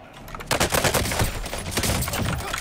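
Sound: gunfire in video game Call of Duty Warzone

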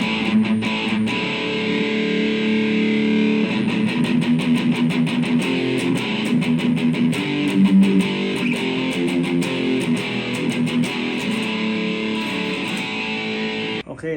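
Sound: electric guitar through metal distortion effect

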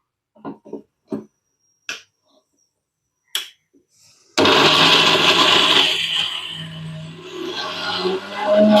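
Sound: blender grinding coconut

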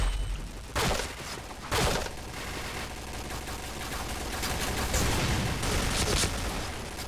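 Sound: HK rifle gunfire in video game Point Blank

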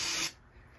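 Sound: aerosol spray into snowmobile spark plug hole

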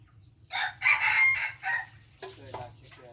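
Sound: rooster crowing

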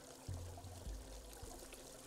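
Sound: water pouring and filling up, from video game Unravel

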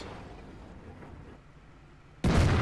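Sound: tank cannon shot hitting enemy tank in World of Tanks video game

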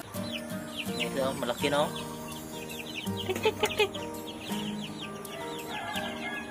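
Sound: Rhode Island Red chicks

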